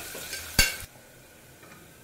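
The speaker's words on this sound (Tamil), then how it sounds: "வெங்காயம் பொன்னிறமாக வரைக்கும் வதக்கிக்கோங்க." Sliced onion sautés in a pan with fennel seeds, a soft, quiet sizzle interrupted by one brief, sharp scrape of stirring.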